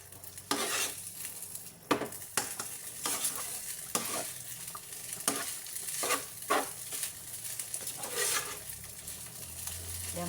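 Hokkien fried rice is stir-fried in a pan with ketchup-based sauce. A steady sizzle runs throughout, broken by repeated sharp scrapes and clanks of a utensil against the pan.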